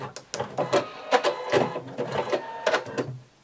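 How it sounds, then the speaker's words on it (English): A sewing machine runs a very wide zigzag stitch while elastic is sewn around the leg opening of a DIY swimsuit, giving short rhythmic bursts of needle clatter with brief pauses, close and moderately loud. "we're just sewing a very wide zigzag stitch"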